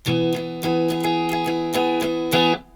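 Acoustic guitar strummed in a fast sixteenth-note rhythm, mostly down strums, with sharp accented chord hits ringing over a short pop-song pattern, clear and close with no voices.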